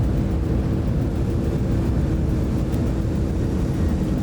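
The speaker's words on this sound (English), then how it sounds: "Reverse thrusters." Airliner reverse thrust on landing in the X-Plane 11 flight simulator, a Southwest Airlines jet: a loud, steady low roar of engine noise with no talk over it.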